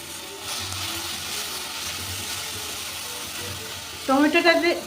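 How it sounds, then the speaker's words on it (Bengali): Grated tomato fries with egg in a pan: a soft, steady sizzle runs throughout, with a brief voiced, tonal sound near the end. "টমেটোটা দিয়ে আর একটু ভেজে নেব।"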